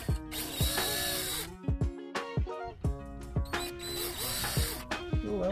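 A power drill drives a screw through the laminate underside of a desk into fiberboard, whirring in two long bursts with ratcheting clicks and short stop-start pulses in between, close by and without talk.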